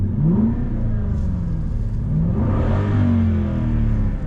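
Aston Martin Vantage N430 engine revving, rising and falling pitch sweeps over a deep rumble, close and loud with no talk.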